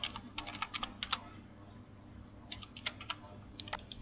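Login details are typed on a computer keyboard in a quiet room: two clusters of light, quick key taps with a pause between them.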